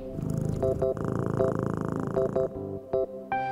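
A toy cat named Kitty purrs in a Peppa Pig toy house as George pets it, a steady electronic purr mixed with bright chiming toy tones.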